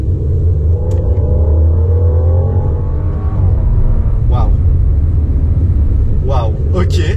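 A Bentley Bentayga Speed SUV engine in sport mode gives a loud, steady low rumble that builds through a downshift, with voices talking over it inside the cabin.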